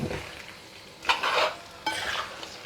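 Kerala duck roast masala with coconut milk bubbles and sizzles in a pan, with short bursts of stirring and scraping in two distinct surges over the steady cooking noise.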